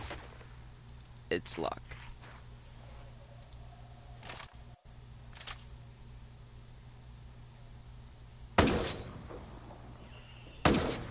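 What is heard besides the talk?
gunfire in the video game Ghost Recon Breakpoint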